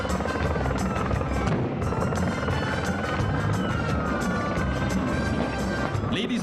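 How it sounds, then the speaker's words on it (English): Royal Malaysian Navy Super Lynx helicopter sweeping in fast and low over a maritime display, a loud continuous rotor roar with a whining turbine tone, steady throughout under a public-address voice. "Coming in fast and low is the Royal Malaysian Navy Super Lynx."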